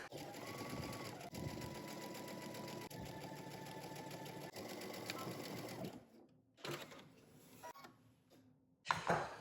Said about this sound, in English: now we're gonna go ahead to the sewing machine, and using 5/8 of an inch seam allowance, we're going to stitch from our crotch all the way up the back